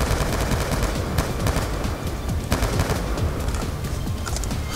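Rapid automatic gunfire from Call of Duty Black Ops 2 game combat, dense continuous bursts and sharp cracks at steady loudness throughout, with no speech.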